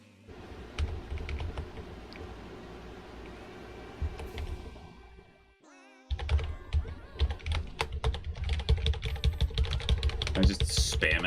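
Fast, continuous keystrokes on a computer keyboard, pausing briefly midway with a short game tone, then resuming harder and denser, alongside faint background game sounds.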